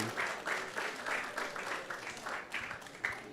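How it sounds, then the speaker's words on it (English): An audience at a Krishna Katha discourse gives a faint, distant round of applause, soft claps pulsing in a loose steady rhythm. "So let's give them a big round of applause."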